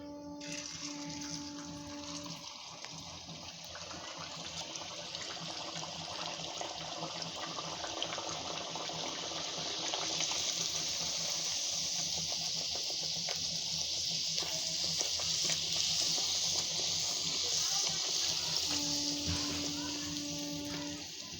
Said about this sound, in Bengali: এখন আমি বেলে রাখা লুচিগুলো এক এক করে ভেজে নিব